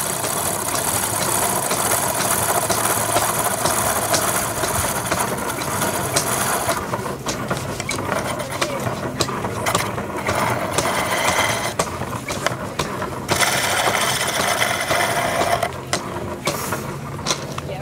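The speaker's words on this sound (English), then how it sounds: "Take a sharp chisel, and while the wood is spinning, you carve it to the shape that you would like." A wood lathe spinning while a sharp chisel carves the turning wood at an outdoor fine art and wine festival, a steady whirring hum with scraping and chattering cuts running continuously and fairly loud close by.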